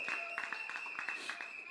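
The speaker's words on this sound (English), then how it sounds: "give them a special round of applause" Faint applause from a group, a steady patter of clapping with a continuous tone running beneath it, heard distantly as if through a virtual meeting connection.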